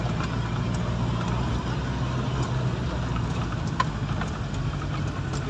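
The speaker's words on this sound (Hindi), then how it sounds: "देखें गाड़ी आ रही है जी" A car engine drones steadily on a rough mountain road at high altitude, a constant mid-level hum with no clear rise or pass-by, heard from close by without any voices.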